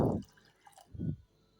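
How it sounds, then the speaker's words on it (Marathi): Water splashing into a pressure cooker holding soaked white peas, two short close gushes separated by a brief gap with a faint drip between them. "1 ग्लास पाणी टाकून"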